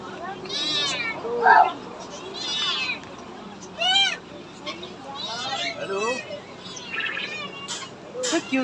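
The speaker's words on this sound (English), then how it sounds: "Look at that kitten over there." A kitten at a busy pet market gives a run of short, high meows, some thin and some insistent, while birds chirp nearby and people chatter around the stalls.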